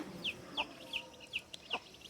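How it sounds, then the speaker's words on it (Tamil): Village chickens of several different breeds clucking in a steady series of short, bright calls, roughly one every third of a second, fairly close, with no talking. "இதெல்லாம் ஒரு ஒவ்வொரு ரகமான கோழி பாருங்கள்"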